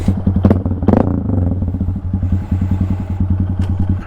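A 2022 Honda Grom motorcycle engine idles and revs with a fast, even, thumping putter, loud and close, swelling briefly with a couple of throttle blips before settling back to a steady beat.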